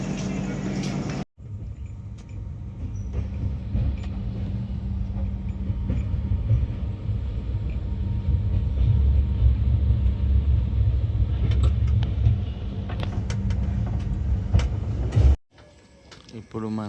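A Pune–Kanyakumari Express pulls out of Tripunithura railway station before dawn, a deep rolling rumble with rhythmic clacking of wheels over rail joints that builds steadily, heard from on board with a few brief gaps.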